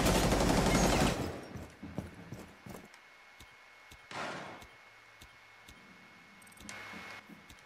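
Gunfire in Rainbow Six Siege crackles in short sharp bursts: a loud opening volley, then scattered single shots and two more brief bursts spaced apart, with quiet gaps between.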